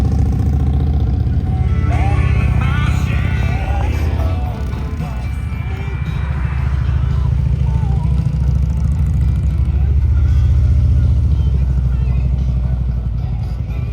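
A group of motorcycles riding past on Route 66 between Carthage, Missouri and Miami, Oklahoma, a loud, steady engine rumble that swells and fades as the bikes go by, with some talk mixed in.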